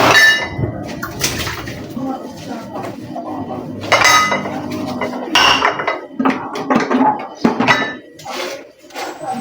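Plates and cutlery clatter and clink close by as dishes left from last night's meal are washed by hand, with irregular bursts of ceramic knocks and scraping under faint running water.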